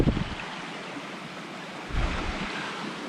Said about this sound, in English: Bit of water coming down there.